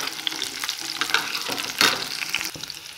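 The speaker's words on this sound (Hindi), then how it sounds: "इन सभी चीज़ों को थोड़ी देर के लिए अच्छे से हम लोग भून लेते हैं।" Chillies and spices frying in a pan for Maggi noodles give a steady close sizzle, broken by scraping stir strokes and a few louder bursts, with no talking.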